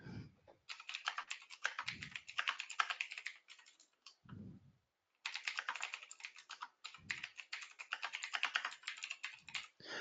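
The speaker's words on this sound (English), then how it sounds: "I'm just going to type in." Typing on a computer keyboard, two long bursts of rapid, close key clicks separated by a short pause, with brief low thumps between bursts and no talking.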